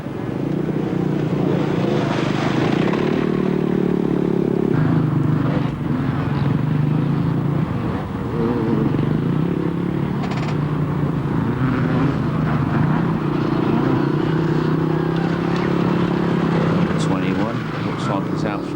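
A 250 Honda motorcycle races in a 1999 scramble at Milton Malsor, its engine droning steadily with rising and falling revs beneath continuous commentary.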